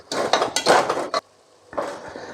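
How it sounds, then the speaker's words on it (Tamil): A spoon stirring masala, salt and rice in a metal pot, a quick series of close scraping and clanking strokes, a brief pause, then more stirring, with no talking. "நல்லா மிக்ஸ் ஆகிற வரையும் ஒரு 5 நிமிஷம் கைவிடாமல் கிண்டுங்க"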